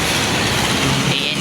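A passing bus engine, a brief loud rumbling roar up close with broadband road noise and a rising hiss toward the end.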